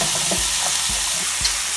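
Pork chops frying in a pan, a loud continuous sizzle with a few quick scraping strokes of a utensil across the pan bottom.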